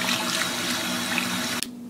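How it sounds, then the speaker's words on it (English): Running water splashes steadily over raw chicken in a cooking pot, a close, loud rushing stream that cuts off abruptly near the end. "Now wash it with water."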